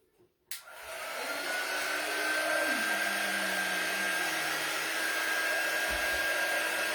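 A hair dryer clicks on and then blows in a steady, close whir while drying a Valentine's craft door hanger, with a brief shift in pitch and no talking.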